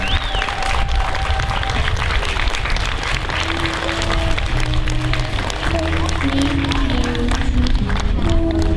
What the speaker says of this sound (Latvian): Ar aplausiem sagaidām.